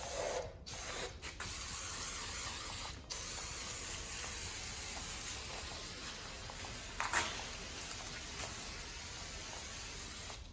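A spray can of foaming cleaner hisses in a long continuous burst into an LS engine block outdoors, broken by a few brief pauses as the nozzle is released and pressed again, fairly close and steady.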